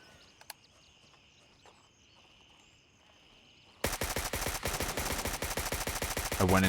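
Enemy gunfire in Gray Zone Warfare: a faint distant shot first, then after a few seconds a loud, close burst of rapid automatic fire that continues steadily to the end.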